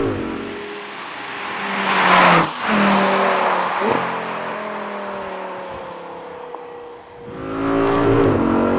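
An Audi R8 GT engine revs hard on a track and climbs through several gears, loud and close, with brief drops between shifts and another surge at the end.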